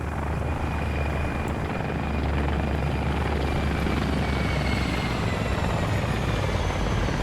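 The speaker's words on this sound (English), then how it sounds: "A hind belonging to the CDF." Military Hind helicopter of the CDF faction flying overhead in a video game, a steady loud rotor thrum and engine roar that holds throughout with a faint high whine above it.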